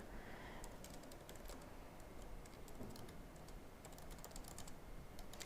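Computer keyboard typing during CRM data entry, a steady run of quick, light key clicks at close range over a constant low background hum, with no talking.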